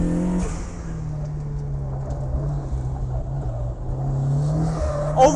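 Turbocharged Mazda Miata engine pulling on a race track, a sustained loud droning engine note heard from inside the car, holding fairly steady before rising slightly at the end.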